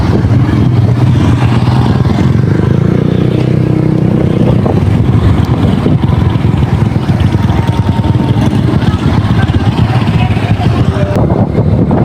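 A motorcycle engine runs continuously and loudly close by, with a rough, clattering drone that shifts in pitch partway through as if revving, and no talking over it.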